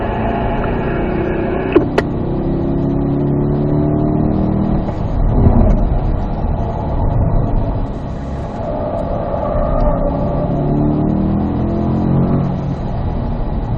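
A car accelerating during a driving lesson, its engine note climbing steadily as it pulls away, with a continuous road rumble throughout and no talking.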